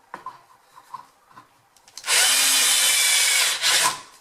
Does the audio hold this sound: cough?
no